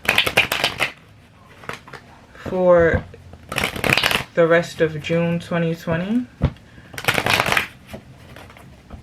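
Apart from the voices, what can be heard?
shuffling tarot cards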